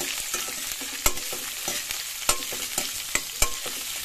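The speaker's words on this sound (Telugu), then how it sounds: "ఇదిగోండి మన పోపు ఫ్రై అవుతుంది." Tempering of spices with onions frying in a pan, cooked for a beetroot, carrot and sweetcorn fry: a steady close sizzle with sharp clinks and scrapes of a spoon stirring, and no talk.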